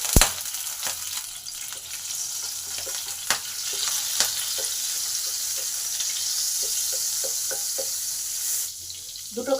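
Butter and oil sizzling in a hot pan while making pasta from leftover dough, a loud, continuous close sizzle with occasional clicks and stirring knocks, fading to quiet near the end.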